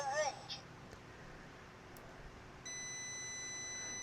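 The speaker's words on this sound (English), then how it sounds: "Does do continuous beep" A cheap Temu multimeter gives a steady continuity beep, a thin continuous tone that starts partway through and holds to the end over faint background hiss, following a few faint earlier chirps.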